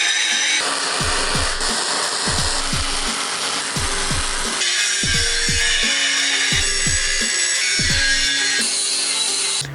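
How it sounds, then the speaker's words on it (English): An angle grinder flattens welds on a steel mould for recycled plastic skateboard decks, a loud, continuous high-pitched grinding whine with repeated scraping passes and pitch dips as it bites the metal, close up with no talking. "Next you're going to grind the welds flat."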